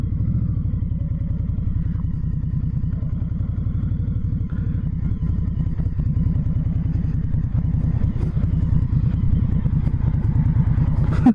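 A 2021 Indian Scout Bobber ABS rumbles steadily as it makes U-turns, its deep pulsing V-twin loud and close throughout, with no voices over it.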